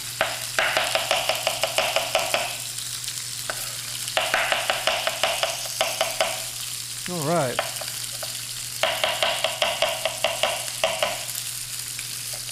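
Meat browning over high heat in a pan, with steady loud sizzling, frying crackle and repeated stirring and scraping in bursts, while a person speaks briefly.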